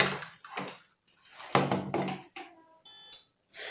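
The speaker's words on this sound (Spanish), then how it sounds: "Ahí no sé si pueden escuchar un pequeño bip." A multimeter in continuity mode probing the terminals of a bedside lamp's wiring gives short electronic beeps between clicks and handling noise, ending in a couple of clear tones.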